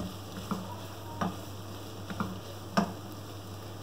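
Minced meat with capsicum cooks in a pan under a soft, steady sizzle, with a few light spoon knocks at spaced intervals, moderately quiet and with no talking.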